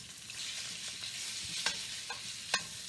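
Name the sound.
cubed salted pork browning in an enamelled cast iron pan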